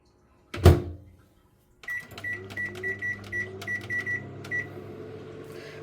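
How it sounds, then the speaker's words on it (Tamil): A loud thump, then a microwave oven hums steadily, with a faint repeating high tone over the low drone. "ஒரு அஞ்சு நிமிஷம் மைக்ரோவேவில் வச்சு எடுத்துக்கிறேன்"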